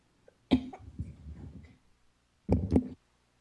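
Two bursts of coughing, a short harsh cough followed by a raspy trailing sound, then a second sharp double cough, close and fairly loud with no talk.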